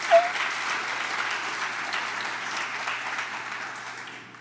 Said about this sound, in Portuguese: Dá um aplauso ao Senhor aí, mãe.